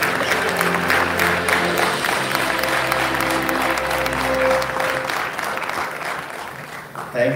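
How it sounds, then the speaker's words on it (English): An awards ceremony crowd applauds steadily, broad clapping filling the room before slowly tapering off. "Can we please have a big round of applause for Kabir's Ai as well?"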